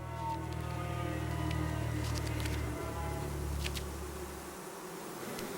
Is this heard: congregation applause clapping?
no